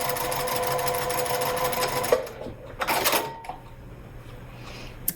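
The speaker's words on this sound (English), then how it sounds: "And then I'm just going to stitch all the way around that little U." A sewing machine runs steadily while stitching around a small U-shaped wallet piece of fabric with batting. A few clicks and knocks follow as the stitching stops, and no voice is present.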